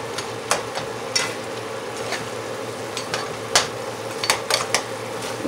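Jamaican-style curry goat simmers in a pot under a steady soft sizzle while a spoon stirs, clinking against the pot in scattered light taps, close and without speech.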